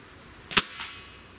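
A Cometa Fenix 400 air rifle fires at a target: a single sharp, loud crack followed by a softer impact report a quarter second later, with no talking.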